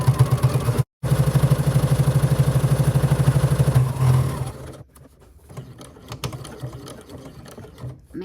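A sewing machine stitches straps onto a clear vinyl phone pouch and lanyard, running in a steady, loud, fast whir for about four seconds after a brief stop, then quieter clicks and handling noises.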